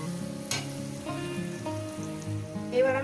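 Rice and vegetables frying in a pan over a low gas flame: a soft, continuous sizzle with a faint tonal hum and an occasional scrape, close and steady.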